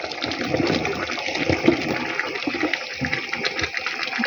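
Water is poured off from a cooking pot in a kitchen while preparing a meat dish, giving a continuous splashing gush that lasts several seconds with no talking.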